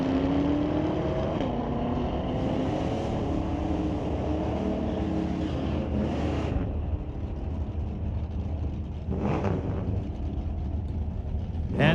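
A drag race at Mission Raceway Park between a 1967 Chevy II and a C7 Corvette, with loud engines roaring and rising in pitch as the cars accelerate down the strip, fading slightly toward the end.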